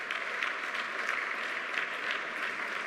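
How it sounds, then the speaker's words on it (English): Audience applause at an award ceremony honoring an ambassador, a steady dense wash of clapping hands that holds evenly throughout, fairly close and full, with no talk over it. "Please, a round of applause for..."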